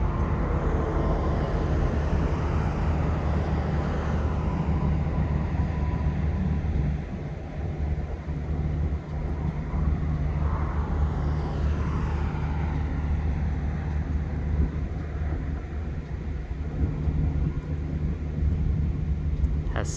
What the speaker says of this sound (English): Has 6 passenger cars, looks like a head and tail locomotive.